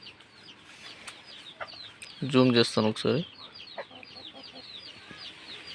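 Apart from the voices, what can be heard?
native chickens clucking under a tree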